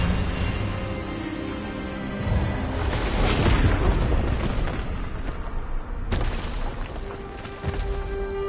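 A spell blast in a Harry Potter video game, Expelliarmus cast during a wizard duel with a professor, rings out as a loud booming burst that swells through the middle and trails off, with a second sharp hit near the end.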